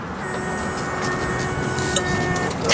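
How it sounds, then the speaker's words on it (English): A 1972 Oldsmobile 442 engine idling with a small exhaust leak on one side, giving a steady rumbling idle with a faint rapid ticking puff layered over it, close by and continuous. "you hear that little exhaust leak on this side"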